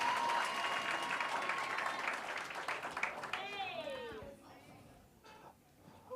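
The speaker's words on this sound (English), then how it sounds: "a round of applause." Workshop and expo crowd applauding after a team pitch: a full round of clapping that thins out after a few seconds, then gives way to high chirping sounds and scattered voices.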